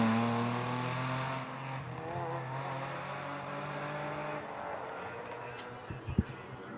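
Rally cars on a stage of the Rallye Mariña Lucense, an engine note droning and revving as a car passes before fading, followed by quieter crowd murmur and a few sharp knocks near the end.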